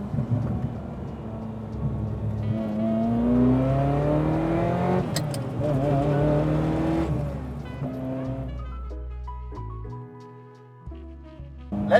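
A Ferrari F355 with a manual gearbox accelerates hard, its engine note climbing through the revs with gear shifts partway through, then easing off as the car slows, loud and close.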